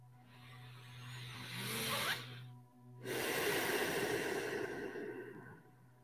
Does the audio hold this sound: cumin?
no